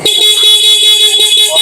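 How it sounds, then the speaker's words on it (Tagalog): A Yamaha NMAX V3 motorcycle's stock electronic horn blares continuously at close range, loud and unbroken, with faint rhythmic clicks beneath it. "sorry, stock horn pala yung naka-activate."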